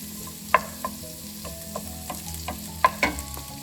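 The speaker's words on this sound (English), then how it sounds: "I saute them for a few minutes." Frozen peas, corn and carrots from a bag sauté in a pan, giving a low steady frying hiss broken by a few sharp clinks and scrapes of stirring, heard close with no one talking.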